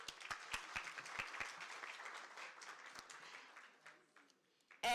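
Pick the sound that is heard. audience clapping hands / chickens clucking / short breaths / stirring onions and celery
audience clapping hands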